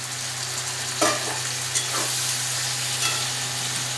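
Steady sizzling of soaked, boiled lentils added to a frying pan, with a few scraping stirs breaking through the continuous hiss.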